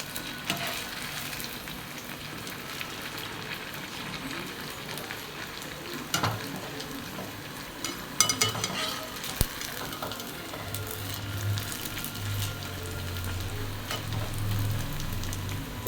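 Slices of bread fry Kerala style in a pan, giving a steady soft sizzle with occasional clinks and scrapes of a utensil turning them, and no talking.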